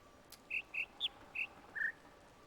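Birds chirp in the video game The Witness: five short, clear whistled calls spaced about evenly over two seconds, moderately loud against a quiet, steady ambient backdrop with no talking.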